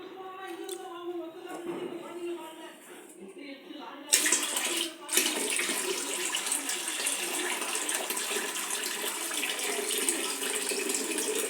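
Water splashes and swishes as urad dal is stirred by hand in a bowl of water, starting under talk and then a louder, steady run of sloshing water.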